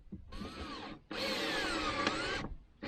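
A cordless power drill drives screws into a wooden brace in two close, loud bursts, a short whir followed by a longer high-pitched spinning whine, each ending abruptly.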